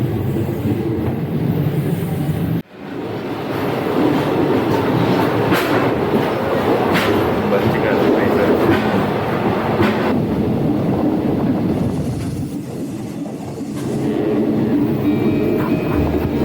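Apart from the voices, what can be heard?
East Coast sleeper train running on rails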